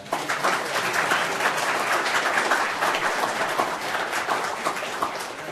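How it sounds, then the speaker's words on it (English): Parents and attendees at an Amarillo city council meeting give another round of applause, dense, even clapping that holds steady for several seconds without talk. "One more round of applause"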